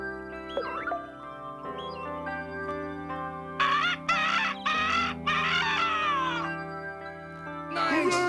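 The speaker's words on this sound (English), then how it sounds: "Because cats are very good at singing songs." A cartoon cat meows in a sung, melodic way, with several drawn-out wavering yowls in a row over a sustained orchestral musical backing, close and clear.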